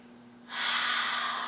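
A deep, slow breath taken during an intermediate yoga session: quiet room tone, then a long, close, airy rush of breath that starts abruptly and holds steady to the end.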